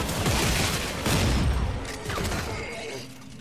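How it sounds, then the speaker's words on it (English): Heavy shotgun blasts in the Dead Space 3 co-op sci-fi horror game come as several dense, booming bursts close together, loud and near, with a thinner tail at the end. "I killed him like one shot with the shotgun."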